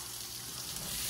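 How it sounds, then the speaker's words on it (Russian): Vegetable satay mixture sizzling in a frying pan over high heat, a steady dense hiss throughout, close and fairly loud with no talking. "Овощную эту нашу сатэ-баганду мы отправляем сразу на сковородку"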